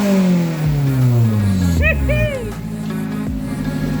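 A 1993 Mazda Miata engine with new CX Racing headers revs hard and loud, climbing and dropping in pitch, then settles back to a steady idle; a brief voice cuts in partway through.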